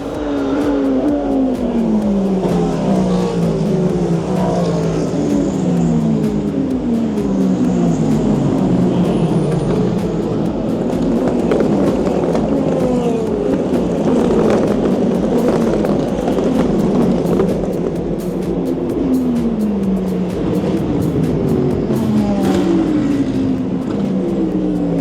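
Race cars at the 24 Hours of Le Mans streaming past in a dense pack, engines roaring and sweeping down in pitch one after another as they brake, loud and continuous for the whole stretch.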